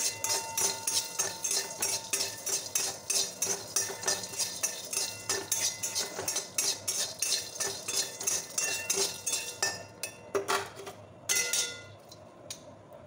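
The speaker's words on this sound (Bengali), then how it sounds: "আমি এই ছোলাগুলো ভেজে নিচ্ছি রুটি ছোলায়।" Chickpeas stir-frying dry in a pan for a light snack, a rapid rhythmic rattle and clink of a spoon scraping the metal over several seconds before it slows and stops.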